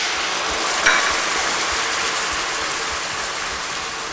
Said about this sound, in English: Give it a quick little loving stir to dissolve the curry into the coconut milk.